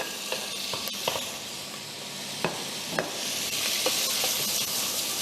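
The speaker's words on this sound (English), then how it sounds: "just saute for a while, saute for a while. So make the seafood more fragrant." Seafood sautéing in a hot pan, a constant bright sizzle close by with occasional clicks and scrapes of stirring, steady and fairly loud throughout.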